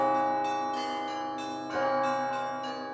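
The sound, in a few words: church bell ringing in monastery bell tower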